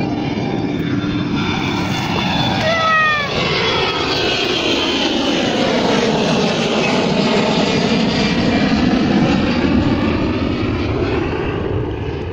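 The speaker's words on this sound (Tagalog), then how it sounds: "Oh, video mo yung aeroplano." A propeller-driven airplane drones loudly overhead above the sea, its engine tone steady and sweeping for the full twelve seconds with no talking.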